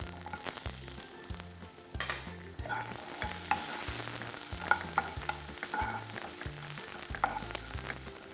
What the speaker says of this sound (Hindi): गार्लिक, जिंजर, सब रफली चॉप बिकॉज इसे हल्का सा सौते करना है, और थोड़ी सी डाइस्ड कैरेट्स